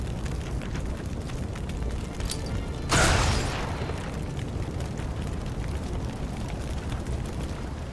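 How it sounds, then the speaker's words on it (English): A grenade detonates in a turn-based tactical strategy game, one sharp loud blast followed by a fading rumble over low ambient background, no talk. "Now for the grenade."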